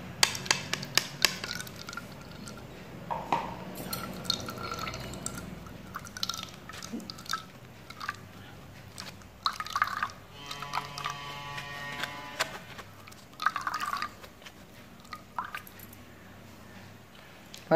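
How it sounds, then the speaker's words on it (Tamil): Ground tulsi paste is strained, giving faint, close wet drips and small trickles with scattered clicks and handling noises, quiet throughout. "இப்போ இது வடிகட்டிக்கலாம்."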